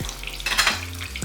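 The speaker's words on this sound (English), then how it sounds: "So it has been like a frying paneer pakora last 10 minutes on the on the medium heat." Paneer pakora frying in hot oil over medium heat gives a close, steady sizzle, broken by brief stirring clatter in the pan.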